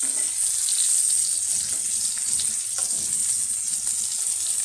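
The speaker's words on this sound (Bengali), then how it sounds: "ঢেকে ঢাকনাটা দিয়ে ভাজে নিলাম" Pointed gourd fries in a pan under a lid, giving a continuous muffled, watery sizzle that holds at an even level throughout with faint occasional pops.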